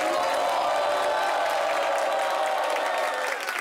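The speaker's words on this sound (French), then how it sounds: "Applaudissements pour vous-même" Audience applause at a live talk show, a dense steady clapping from the crowd that carries on loudly before easing slightly at the end.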